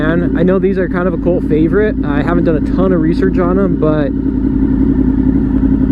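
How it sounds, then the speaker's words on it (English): A 1999 Honda VFR 800 motorcycle riding at speed, its exhaust a steady low drone with someone talking over it for most of the clip before the engine continues alone. "Listen to that exhaust."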